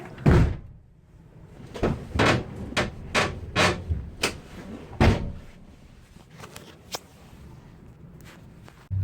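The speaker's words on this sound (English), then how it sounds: "And I damaged my door with the wind." A damaged door bangs repeatedly in blowing snowy wind, a series of loud wooden thuds and rattles at irregular intervals, close by, fading to softer knocks.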